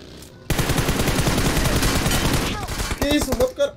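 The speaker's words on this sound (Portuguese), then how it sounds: "Dei tiro demais nele ainda." Rapid automatic gunfire in a shooting video game, a dense sustained burst of shots lasting about two seconds, then a few scattered effects and short tonal game sounds.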